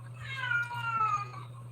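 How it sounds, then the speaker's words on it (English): A pet cat named Zuzu meows in one drawn-out, wavering cry close by, with a low steady hum running underneath. "there goes my cat."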